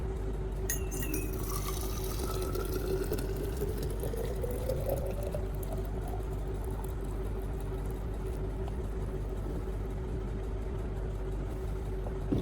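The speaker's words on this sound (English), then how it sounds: "Then pour out the water." Hot water pours out of a thermos in a steady glugging stream, with a rising gurgling tone over a constant background hum.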